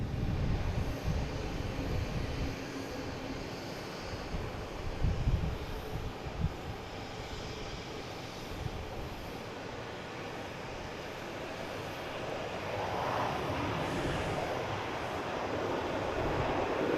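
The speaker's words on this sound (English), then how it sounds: "we have Virgin Atlantic arriving on 4 right" A Virgin Atlantic aircraft arriving on runway 4 right gives off a low, rumbling engine roar at a distance, fairly steady with a few soft thumps and a gentle swell toward the end.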